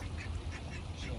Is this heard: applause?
no